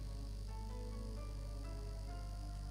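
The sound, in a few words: background buzzing of a room heater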